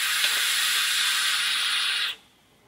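A long, steady airy hiss comes from a vape draw through the top T airflow of a Digiflavor Drop Solo RDA on a 0.22 ohm build at 55 watts, held close for about two seconds before cutting off abruptly to quiet.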